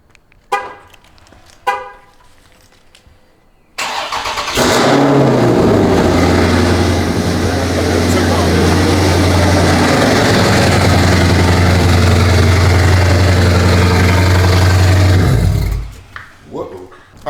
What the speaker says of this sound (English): this cold start will be really loud